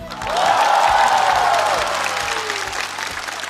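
Loud audience applause fills a large hall at a Chinese roast comedy stage show, a dense sustained clapping that swells early and holds steady to the end, with some cheering mixed in.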